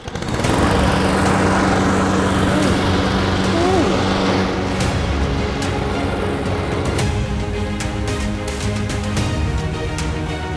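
A lawn mower engine runs steadily at a loud, even drone throughout, close by, with a few faint clicks and knocks around it.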